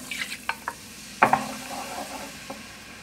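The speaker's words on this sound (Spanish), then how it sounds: "seguimos revolviendo vigorosamente para que no nos queden grumos" Cheese soup base being stirred vigorously with chicken broth, a few distinct scrapes and taps of the utensil against the pot with soft sizzling underneath, fairly close, no talking.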